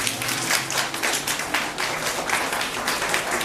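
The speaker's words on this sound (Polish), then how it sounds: "Jeszcze raz wielkie brawa dla naszych wspaniałych artystów małych." Applause for children who made artwork for a town birthday event in Pruszków, a dense patter of clapping hands that carries steadily through the moment.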